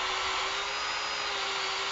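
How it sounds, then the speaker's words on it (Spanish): Bosch GSR 14.4V cordless drill boring a through hole, a steady high-pitched whine with a constant tone, close and unbroken for the whole short stretch. "Ahora vamos a hacer la perforación pasante."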